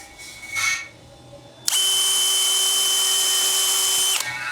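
An electric drill bores a hole into metal pieces clamped in a vise, letting out one steady, loud, high whine for a few seconds before it stops. Faint handling noises come before it.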